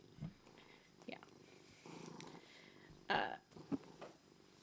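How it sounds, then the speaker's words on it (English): A cat purrs softly in the background, with low rumbling bursts and a few small household noises; no one speaks. "If you hear purring in the back, by the way,"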